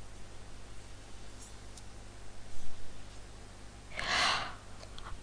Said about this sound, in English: I'm not surprised I'm yawning